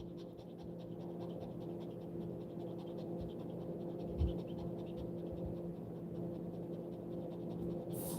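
A dog pants heavily and continuously at close range, a steady rapid breathing rhythm that runs throughout with a brief louder bump midway.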